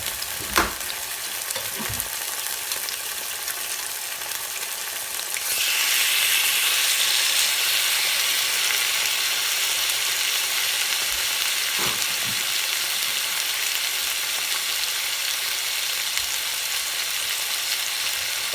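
Steady, loud sizzling of pork neck frying in a hot pan, with a few clinks of utensils near the start and midway.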